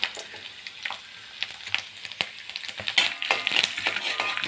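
Garlic cloves frying in a pan for Tirunelveli tamarind kuzhambu, a steady close sizzle with scattered sharp crackles and pops that grow busier toward the end, no voices.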